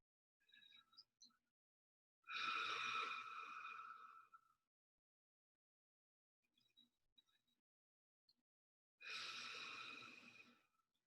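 Two long, airy breaths in and out through the mouth, each lasting about two seconds and sounding like wind blowing, with faint softer breaths between them, quiet and close, no talking.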